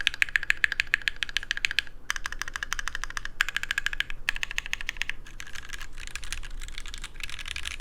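Mechanical keyboard with an aluminum plate and no foams, typed in steady fast bursts of bright, thin clacks with brief pauses between runs, close and alone.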